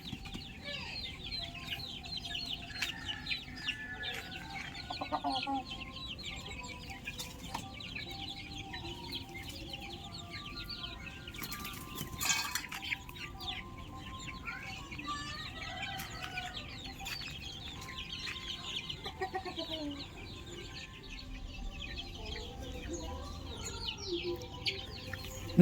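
Chickens cluck and call intermittently over a long stretch, fairly faint, with some birdlike chirps and a brief louder burst midway.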